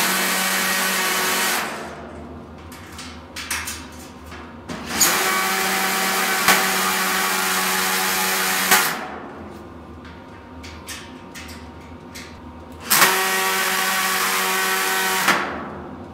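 A power drill drives a screw at torque setting 11 during a large workshop shelf build, in three loud whirring bursts separated by quieter pauses with faint handling noises.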